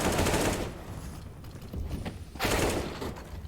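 Counter-Strike gunfire during a DreamHack Anaheim 2020 final between Furia and Gen.G: a dense burst of rapid shots, then a quieter gap with scattered sounds, then another loud volley.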